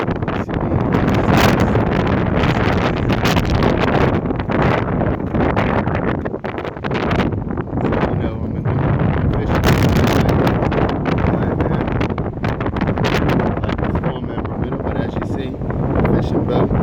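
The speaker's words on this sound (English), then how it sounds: "It's still windy and blowing, as you see." Strong gusts of wind buffet the microphone at a harbour the morning after Tropical Storm Alex, a steady loud roar with rustling and bursts throughout, a voice talking over it at times.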